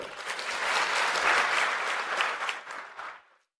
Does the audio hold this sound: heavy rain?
no